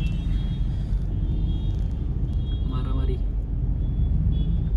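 Dense road traffic in a jam, with a steady low rumble of idling and creeping vehicles close by and people talking over it throughout.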